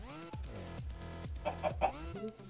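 Several video game chickens cluck and squawk in short, uneven bursts, fairly close, with a faint background hum.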